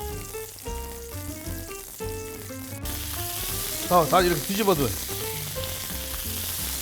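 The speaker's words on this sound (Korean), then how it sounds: "이거 탁탁탁탁 터지는 소리 들리죠?" Pork belly fries in a pan with a constant bright sizzle and crackling pops, close up, under background music, with a short spoken phrase over it.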